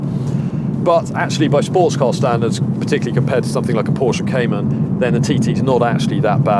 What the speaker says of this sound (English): that's the road noise that the TT generates no matter what alloy wheel size you go for